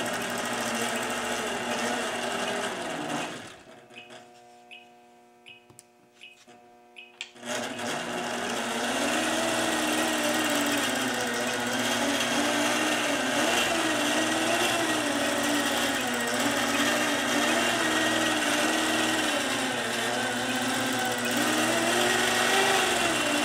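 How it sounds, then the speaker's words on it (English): A sewing machine stitches out a pattern on a quilt block, running as a steady close whir that pauses for a few seconds with faint clicks, then resumes and keeps humming evenly to the end. "we'll go ahead and stitch out this pattern"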